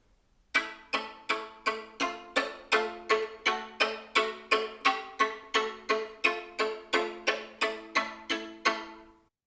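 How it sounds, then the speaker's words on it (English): A string instrument bowed col legno with half wood and half hair, producing about eighteen evenly spaced percussive, slightly pitched strokes in a steady rhythm, close and clear with no talk. "Playing with half wood, half hair. And it sounds like this."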